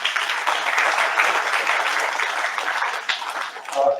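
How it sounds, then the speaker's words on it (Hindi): A crowd applauds at a ceremony honoring students who scored 85 percent or more in their 10th-grade exams, welcoming a guest from Jaipur; dense, steady clapping fills the whole stretch, then thins slightly near the end. "उनके स्वागत के लिए एक बार जोरदार तालियां दें"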